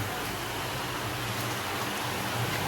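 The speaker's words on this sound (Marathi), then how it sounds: "पाण्याचा आवाज कसा काय येतो?" Steady broadband rushing of water, likely rain runoff or a waterfall channel, in foggy hills on the way to Bhimashankar during rain, continuous and moderately loud with no talk.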